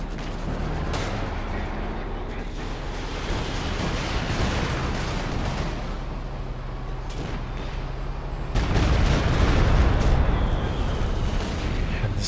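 Artillery barrages in a Company of Heroes 2 match, dense rumbling booms and blasts rolling continuously, swelling heavier near the end, under a caster's steady commentary.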